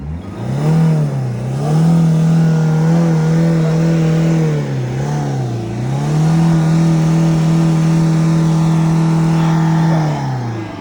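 A Ford Figo engine with about 2.5 lakh km and carbon buildup revs repeatedly under the accelerator during a carbon cleaning, a loud close droning hum that rises and falls in several swells.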